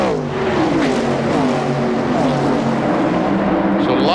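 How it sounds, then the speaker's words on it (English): Stock cars race side by side at Daytona in the 1996 ARCA 200, a loud, continuous roar of several engines with pitches sweeping up and down as cars pass close by. "So lots and lots of side-by-side racing"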